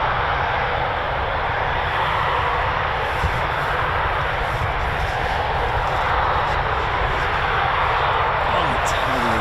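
Eurofighter Typhoon FGR4 jet at RAF Coningsby, a loud, steady broadband engine roar that holds without a break, with faint voices beneath it.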